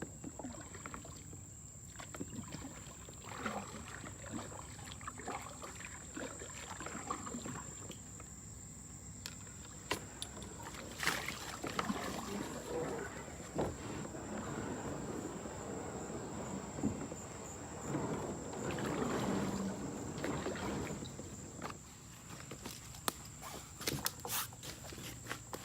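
A canoe is paddled solo across a lake, with soft, faint paddle strokes and water swishes repeating at an easy rhythm while crickets chirp steadily in the background.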